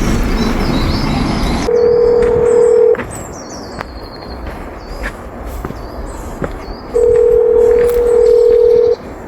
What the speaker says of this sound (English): That was my phone ringing as well.